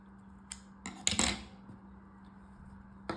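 Scissors snip through crochet thread while finishing a small daisy flower keychain, giving a few quick, close metallic cuts and clicks, one louder snip standing out, with a faint steady hum underneath.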